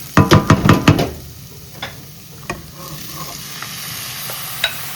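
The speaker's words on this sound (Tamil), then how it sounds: "இதை வடிவாக ஒரு 1 நிமிஷம் விடாமல் கிளறுவோம்" Squid curry fries in a pan while a spoon stirs it, opening with a quick run of sharp knocks against the pan, then settling into a steady sizzle broken by occasional scrapes.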